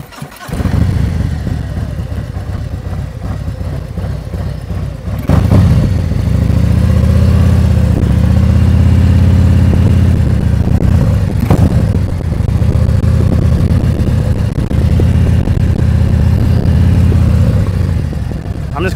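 A motorcycle engine runs steadily during slow, tight U-turn practice around cones, a loud close idle and low throttle drone with a couple of brief surges, while someone talks intermittently over it.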